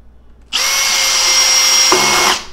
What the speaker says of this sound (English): I'm just going to hold down the trigger until a drill stops for me.